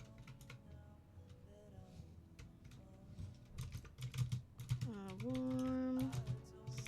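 Keys clatter on a loud computer keyboard in quick, uneven bursts of clicks, close to the microphone, while a voice speaks briefly over soft background music.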